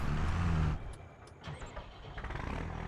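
A pickup truck, an old power wagon in Farming Simulator 25, rumbles loudly with a steady engine drone, then cuts out to a quieter stretch with brief mechanical clicks before the engine noise builds again.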